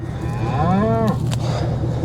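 A single cow in a herd lets out a clear, drawn-out moo close by, rising and then falling over about a second against a low background hum.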